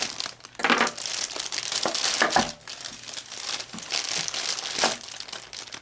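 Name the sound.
cutting open and crinkling figure packaging while unboxing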